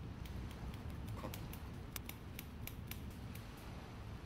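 Scissors snip repeatedly through a woman's long hair during a layered haircut, a series of crisp close clicks in an irregular rhythm over a faint background hiss.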